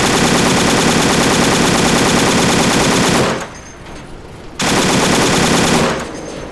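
Sustained automatic gunfire in ARMA 2 aimed at a vehicle, a loud continuous rattle of rapid shots that breaks off briefly and then resumes in another long burst.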